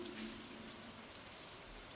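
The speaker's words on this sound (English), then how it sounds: "when it's raining all day" Rain falling in the Stardew Valley video game, a faint, steady hiss of patter that carries on without a break.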